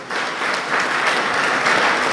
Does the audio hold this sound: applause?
yes